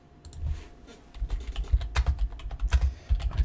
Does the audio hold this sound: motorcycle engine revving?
no